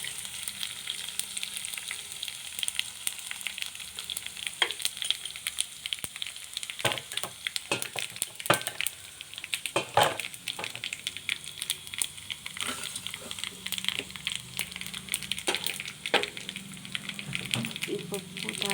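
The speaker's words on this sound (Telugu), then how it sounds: "ఈ పప్పు తాలింపు అయిపోయింది" Spices sizzle in hot oil as tempering for a Telugu pappu tomato dal, with steady crackling and popping, irregular sharp spits and occasional stirring scrapes, close up and fairly quiet throughout.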